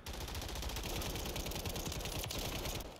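Rapid, continuous SMG fire from the video game Modern Warfare 3, a loud, unbroken automatic burst that lasts about three seconds, with no talking.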